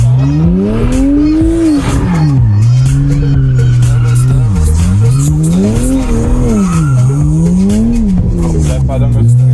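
Car tires squeal loudly and continuously at a crowded car event in Klaipėda, the pitch wavering up and down as the engine revs, close and dominant throughout.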